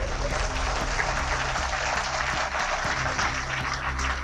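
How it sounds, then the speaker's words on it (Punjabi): Audience applause at a Punjabi political gathering, a steady dense wash of many hands clapping for several seconds at even loudness, with a low hum underneath and no clear voices. "ਜੇ ਸਹੀ ਹੈ ਤਾੜੀ ਮਾਰ ਦਿਓ ਨਹੀਂ ਤਾਂ ਨਾ ਮਾਰ"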